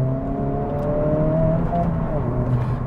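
Honda Civic Type R engine accelerating hard, a loud steady drone with harmonics that climb and shift as the revs build, up close for the whole stretch.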